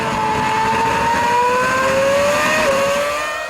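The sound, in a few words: Formula 1 Ferrari and McLaren race cars, 2007 season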